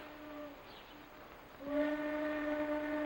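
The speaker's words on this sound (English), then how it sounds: "Train whistle." A steam train whistle sounds a faint steady tone, drops back, then blows long and loud from mid-clip to the end, with no voices.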